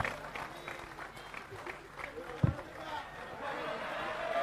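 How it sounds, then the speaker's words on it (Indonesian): An audience at a gathering applauds a gift presentation, scattered clapping mixed with crowd chatter and a voice talking over it, one louder thump midway. "Tepuk tangan semua teman sekalian"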